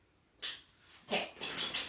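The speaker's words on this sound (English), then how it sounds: "That's my dog." Short bursts of scrabbling and light whimpering from a dog, close by, in quick uneven spurts after a moment of quiet.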